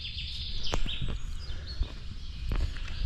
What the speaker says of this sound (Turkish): Bu kuş seslerini efekt sanılabilir Ama değil